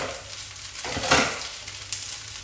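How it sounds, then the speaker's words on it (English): Vietnamese rice noodles stir-frying in a hot pan give a soft sizzle with a brief louder burst of stirring and scraping in the middle, fairly quiet and close. "So it's just stirring at the moment, so basically just stirring it up a bit"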